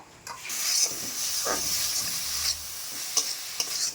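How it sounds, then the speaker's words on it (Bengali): Coconut and sugar filling stirred in a wok, a steady hiss and sizzle with scraping spoon strokes, close and continuous with no voices. "নারকেলের পুরটা করার জন্য নাড়ুর পাকের মতো একটু সুন্দর করে কড়াইতে দিয়ে নেড়ে নিচ্ছি"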